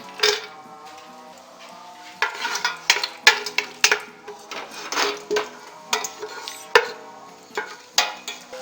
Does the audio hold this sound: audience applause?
no